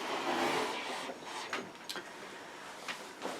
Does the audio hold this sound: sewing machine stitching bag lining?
yes